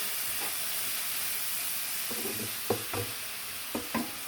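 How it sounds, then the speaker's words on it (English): Salmon fillets seared in a hot pan with garlic butter glaze, a steady close frying hiss throughout with a few brief clinks and scrapes near the end, no talking. "Give them a quick sear here."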